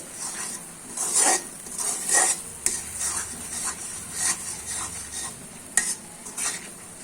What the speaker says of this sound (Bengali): যখন এই পর্যায়ে ডালের ভর্তা দেখবেন হয়ে আসছে, তখন একটু পরপর নেড়ে চেড়ে দিতে হবে, না হয় নিচে লেগে যাবে।